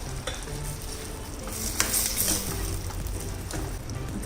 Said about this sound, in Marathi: आता याला छान उकळी येऊ देऊया